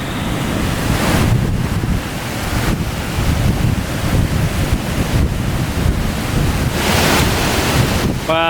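Heavy surf from Typhoon Auring pounds a beach on Siargao as strong gusts buffet the microphone. Loud, continuous crashing waves and roaring wind carry on unbroken, with a brief fluttering gust near the end.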